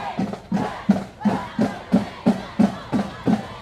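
A high school varsity football crowd cheers in rhythmic bursts late in a close game, loud and close, with regular pulsing shouts.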